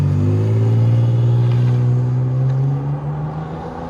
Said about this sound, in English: Flowmaster 40 series on this beautiful 4Runner